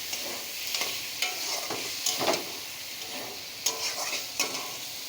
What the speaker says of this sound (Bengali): এটা দিয়ে খুব সুন্দর করে আমি কষিয়ে নেব।